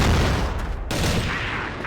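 Gunfire in an online first-person shooter sounds as a loud, dense burst of rapid close shots and booms lasting under two seconds, with a brief dip partway through.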